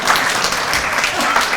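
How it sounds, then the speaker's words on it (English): A short burst of audience applause at a presentation, steady and fairly loud clapping from a small crowd with no voices over it. "Applause, come on, that was hard."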